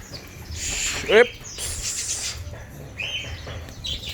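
A white-rumped shama sings a brief whistled, rising phrase with scattered chirps over faint background noise.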